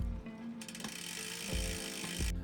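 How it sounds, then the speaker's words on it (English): A SRAM TT500 bar end index paddle shifter on an ICE VTX recumbent trike clicks down to the lowest cassette cog, giving a few distinct close ratcheting clicks over a steady mechanical hum. "Shift down to your lowest cassette cog to take pressure off the shifter."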